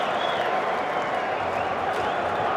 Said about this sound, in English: It's nice to see his teammates out there all clapping him too.